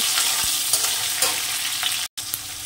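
Tomato and green chili frying lightly with potatoes in a pan, a steady close sizzle with a few soft stirring scrapes, cut by a brief silent gap near the end.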